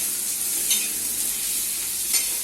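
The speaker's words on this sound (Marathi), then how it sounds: "टॅमॅटोला पण एकदा थोडंसं नरम होऊन द्यायचा टॅमॅटो, म्हणजे कसं त्या वांग्यामध्ये मिसळून जायचं." Tomato softens in a pan alongside eggplant for a Maharashtrian bharit, a steady, fairly loud hiss of frying with a couple of faint stirring scrapes, close up and with no talking.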